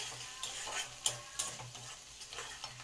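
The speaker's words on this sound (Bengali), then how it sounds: "এবার এই সব উপকরণগুলো হালকা হালকা করে ভেজে নিতে হবে" Onion, garlic and green chilli fry softly in oil in a pan, a faint, steady sizzle broken by a few light clicks and scrapes from stirring.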